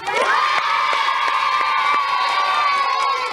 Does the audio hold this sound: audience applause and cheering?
yes